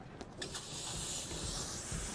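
Steady broadband sizzling hiss of chicken cooking on a hot grill, continuous and close, with a few faint clicks at the start.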